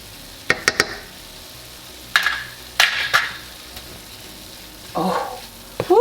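Garlic hits a hot pan and sizzles in short bursts, with spoon-against-pan stirring clatters scattered between, close and moderately loud, no talking, while cooking filling for stuffed acorn squash.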